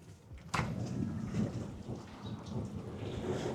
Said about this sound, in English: Straight downpour outside.